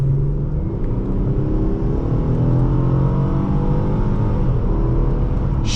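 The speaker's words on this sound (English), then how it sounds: "They really give you that sensation of acceleration. Like, when you're moving, it's like bam, bam, bam." A 2019 Ford Taurus SHO with a six-speed automatic accelerates under a steady loud cabin drone, its engine pitch climbing in rising sweeps as it pulls through gears.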